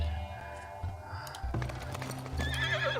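Horses whinny in the Farthest Frontier settlement game, several loud neighs in a row over clip-clop hooves and low background game ambience.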